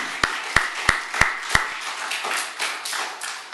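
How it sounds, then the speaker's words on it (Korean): During a Christmas Sunday worship service in a church, five sharp, evenly spaced unison claps ring out close and loud, followed by a softer, scattered round of applause from the congregation. "할렐루야 박수를 하나님 앞에 영광 돌립니다"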